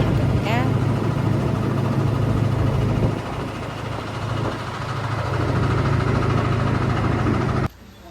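A small tong tong motorboat carrying ten passengers on Tuyen Lam Lake in Dalat, Vietnam, runs its engine with a steady low chugging drone, heard close up, before the sound cuts off abruptly near the end.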